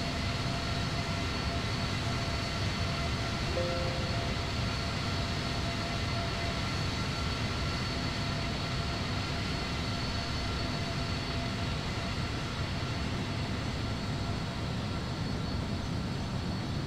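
An airliner cruises in the Prepar3D v3.2 flight simulator on a Washington Dulles to San Francisco flight, giving a steady, even engine and cabin drone with a faint constant whine. It continues unchanged with no voices.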